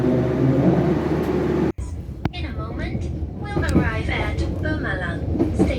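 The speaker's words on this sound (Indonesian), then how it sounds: "Ini teman-teman suasana stasiun Tegal dengan peron yang panjang." Station ambience on a long platform at Tegal station in Indonesia, a steady rumbling wash of rail noise, then a brief cut to a busier scene with scattered voices and clatter continuing throughout.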